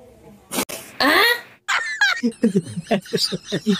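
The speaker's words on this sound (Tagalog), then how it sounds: "pigilan mo yung ubo mo" A couple of harsh, raspy coughs up close, then a person starts talking right after.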